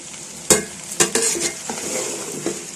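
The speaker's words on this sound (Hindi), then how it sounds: "अब इसको अच्छे से मिक्स कर लूँगी।" Boiled noodles being tossed with chicken and vegetables in a pan, with a few sharp utensil scrapes and knocks over a soft sizzle, heard close up with no one talking.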